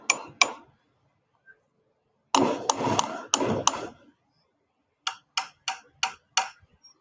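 Plastic kid-friendly cups struck in a classroom science experiment give dull, short taps: a couple of hits, a quick cluster of thuds, then a steady row of six evenly spaced knocks, close and moderately loud.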